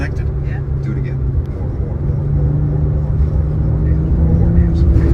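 A BMW engine drones and rises steadily as the car circles an autocross course at the BMW Performance Center, with a close, continuous rumble throughout while a person speaks over it.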